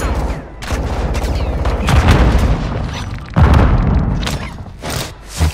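In-game grenade blasts amid a firefight: loud, close booming thumps arrive in separate bursts over rattling gunfire, with a heavy impact near the middle and more bangs toward the end.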